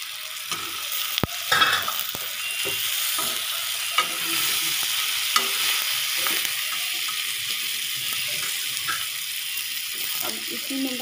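Ivy gourd (kundru) tipped into a frying masala, giving a steady broadband sizzle with scattered stirring clatters and a few sharp clicks throughout, close and moderately loud, with no talking.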